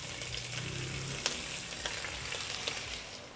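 Egg white mixture poured over prawns sizzles steadily in a hot pan, with a dense continuous crackle, a couple of faint utensil taps and no voices.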